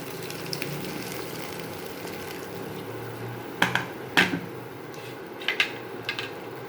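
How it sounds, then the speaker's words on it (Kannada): Water with grated coconut simmers and bubbles in a cooking pot for vermicelli upma, a steady low bubbling hiss broken by a few sharp pops and clicks near the end. "ನೀರು ಕುದೀತಾ ಇದೆ"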